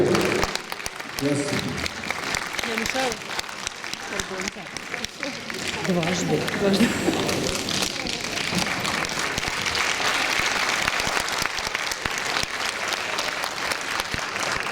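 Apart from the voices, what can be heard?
concert audience applause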